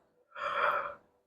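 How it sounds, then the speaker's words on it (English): A single drawn-out breathy exhale rising and fading over about a second, close and fairly quiet, like a yawn with no talking. "There's my yawn."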